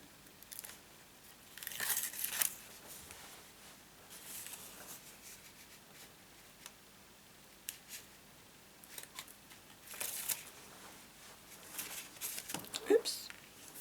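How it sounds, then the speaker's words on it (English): Tape backing peeled off a handmade lattice-edged card, with several short crisp tearing and crinkling bursts of paper close by, separated by quiet stretches and soft handling noises, with someone speaking in between. "Now I can pull off my tape backing."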